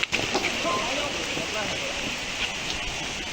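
Steady rain pours down outdoors in an Indonesian street scene, a dense continuous hiss with no pauses, close and fairly loud throughout.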